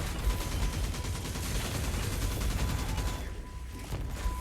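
Rapid cannon fire from the video game Destiny Rising, a dense continuous barrage of shots and mechanical clatter that rolls steadily for several seconds, then thins near the end.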